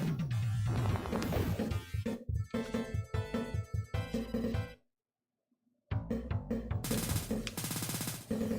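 Machine gun fire worked into the level music of a Sega Genesis game, rapid rattling bursts mixed with the synth soundtrack, broken by a second of silence midway.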